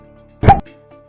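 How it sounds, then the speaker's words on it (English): A single short, sharp pop as a lit match ignites hydrogen from water electrolysis at a test tube's mouth, close and fairly loud, over a faint steady background hum. "The pop sound proves that the gas in the test tube C is hydrogen."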